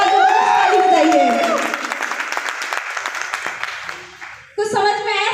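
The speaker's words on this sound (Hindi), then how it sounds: "एक बार ताली बजाइए" An audience at an RCM business plan presentation breaks into a burst of applause that swells and then thins out, with a speaker's voice heard before and after the clapping.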